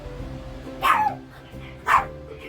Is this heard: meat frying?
no